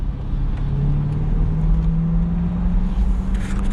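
A 2020 C8 Corvette with the 5VM carbon fiber package drives at steady speed, its engine a continuous low drone with a rising tone, heard from inside the cabin, with only faint hints of pops and no talking.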